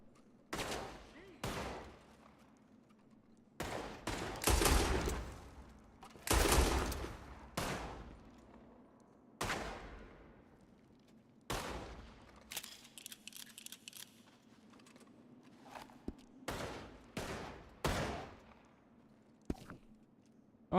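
Repeated gunfire in a role-play video game, sharp loud shots fired singly and in quick bursts with pauses between them, each ringing out briefly.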